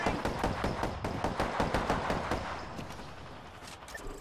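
Rapid automatic gunfire in the Apex Legends video game, a dense rattling burst of repeated shots that stays loud and steady throughout, tapering slightly near the end.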